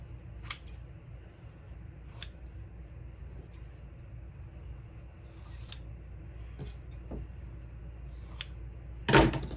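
Scissors snip through pieces of fabric in several sharp, isolated cuts spaced a couple of seconds apart, close and clear over a quiet room.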